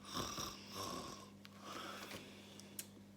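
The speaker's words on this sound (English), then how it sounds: "The boy was so close to the snoring coming from the cockpit, it was extremely loud." Rhythmic snoring with rough, rattling breaths repeating every second or so, fairly close and loud, with no talking.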